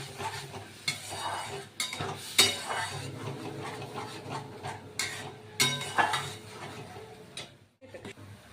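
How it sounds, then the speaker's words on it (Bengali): Spinach paste being stirred in a pan with a spoon, giving repeated scraping and clinking strokes over a soft sizzle, close and fairly quiet, with brief pauses between strokes. "এটাকে ভালো করে নাড়ব"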